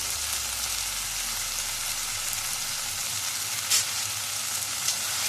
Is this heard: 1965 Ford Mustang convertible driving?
no